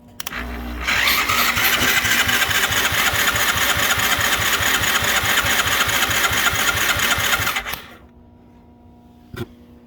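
A BMX 110 four wheeler engine fired with carb cleaner catches after a couple of sharp cranking bursts, then runs loud and rough for about seven seconds before dying abruptly, leaving near silence and a faint click.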